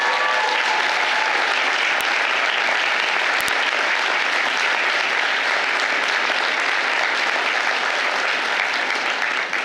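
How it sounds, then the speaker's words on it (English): Law school graduates applauding at a Georgetown University Law Center commencement, a steady, loud wash of clapping from a large crowd that holds for nearly ten seconds. "Please give yourself a round of applause."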